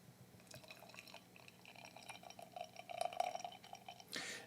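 O'so Brewing Dominator bock beer being poured into a glass, quiet gurgling and dripping liquid that builds toward a fuller splash near the end, close and soft, with no talking.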